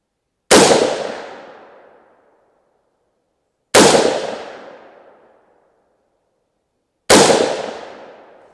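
Three loud, sharp gunshots from a 300 Blackout rifle fired at a target on a range, each with a long decaying echo, spaced about three seconds apart with no talking.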